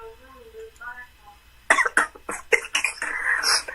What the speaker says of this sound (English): My grandma hear me coughing.